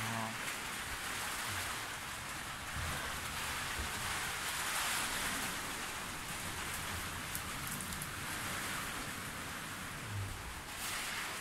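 Heavy typhoon rain pours down in the Philippines, a dense, steady hiss of drops drumming on nearby surfaces, constant and unbroken and fairly quiet overall, with no voices heard over it.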